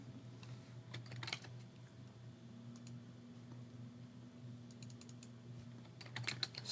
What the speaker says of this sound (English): And we need to type